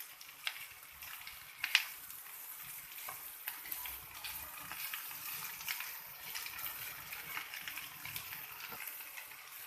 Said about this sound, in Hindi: 2 से 3 मिनट इसको फ्राई कीजिए